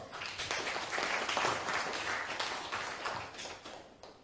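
Crowd applause at a Korean party leadership candidates' joint campaign rally in North Gyeongsang: sustained clapping that swells to a peak midway and then tapers off, fairly distant and without speech.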